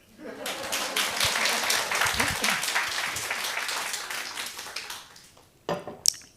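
An audience at a church revival meeting breaks into sustained, dense clapping that swells and then fades over several seconds, ending with a few sharp isolated claps, while a voice speaks faintly underneath.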